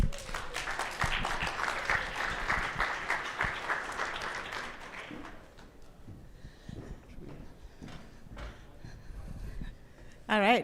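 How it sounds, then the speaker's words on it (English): Audience applause for lightning talk speakers at BazelCon in Atlanta, a full round of clapping for about five seconds that fades out, followed by quieter room noise and the start of talking. "please give them a warm round of applause."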